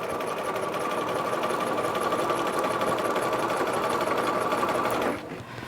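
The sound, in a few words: sewing machine sewing a long basting stitch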